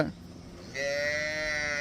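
A dairy cow on a Punjab farm gives one long, loud moo that swells in after a quiet start and carries steadily to the end, close and clear with no talk over it.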